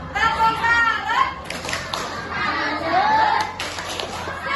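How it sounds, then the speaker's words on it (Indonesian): Children clap and chant a rhythmic salute cheer for group 1 at a school stage performance, close and loud, with voices and claps in short bursts and a brief pause in the middle. "Kasih tepuk satu lagi untuk kelompok 1. Tepuk salut."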